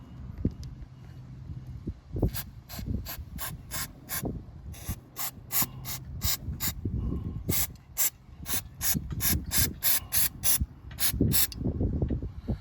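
Quick aerosol bursts of chain lube sprayed onto a motorcycle chain hiss in a rapid series of short pulses, mixed with nearby mechanical clicks and rubbing.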